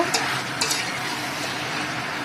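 Meat braising in a pan is stirred up close, with a soft constant sizzle and a few sharp scraping clicks of the spoon early on, no talking.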